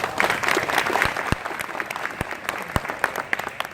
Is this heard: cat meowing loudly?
no